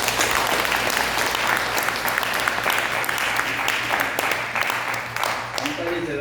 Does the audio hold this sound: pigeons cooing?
no